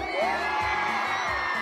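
Live crowd at a show in Oaxaca cheering and whooping loudly, a dense sustained roar of many voices with shrill whoops on top and steady beat-driven music thumping underneath.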